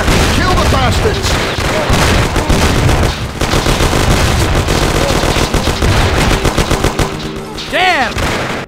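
A loud shootout in the video game Mafia, with dense overlapping bursts of gunfire and machine-gun rattle close by, and shouting voices and whistling ricochets near the end.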